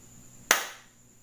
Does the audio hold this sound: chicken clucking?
no